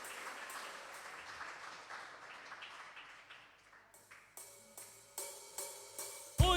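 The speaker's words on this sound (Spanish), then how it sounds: "Dele un aplauso fuerte al Señor porque Él es digno de toda gloria y de toda honra" A church congregation clapping at a Sunday worship service, a thin, distant patter that gives way to a slow series of individual claps growing louder toward the end.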